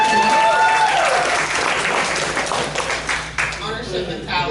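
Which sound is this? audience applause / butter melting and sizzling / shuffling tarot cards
audience applause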